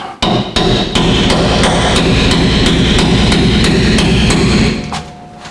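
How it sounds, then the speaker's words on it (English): Bolts being hammered out of a crash-damaged RV axle: a rapid, regular series of about a dozen loud, close metal-on-metal hammer blows that ring on together, ending in a brief fading tail. "I'm gonna finish driving these bolts out."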